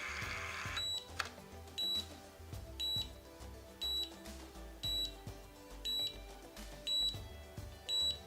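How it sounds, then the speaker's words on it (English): A cooking appliance's timer beeps again and again, short high electronic bleeps about once a second in a steady rhythm over a low background hum. "It's gonna beep the entire time?"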